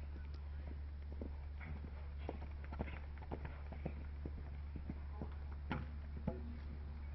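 Horse hooves at a men's show jumping European championship course in England, a faint irregular clip-clop of strides and knocks against steady low background hum, with no talk.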